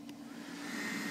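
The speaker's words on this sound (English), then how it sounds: "And there you can see the fans are spinning" Small cooling fans inside a Mandalorian helmet whir steadily on their high setting, a close, even electric hum with an air conditioner running in the background.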